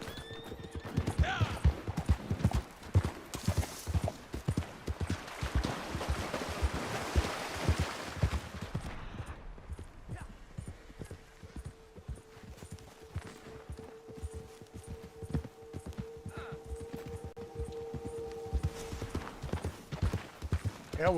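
Hooves clip-clop in quick, steady beats as a horse moves through a video game, with an occasional whinny; someone talks over the hoofbeats at times.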